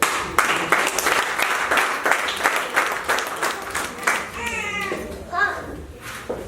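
Audience applause at a community literacy and numeracy experience-sharing meeting, a steady wash of many hands clapping throughout, with children's voices and brief chatter mixed in near the end.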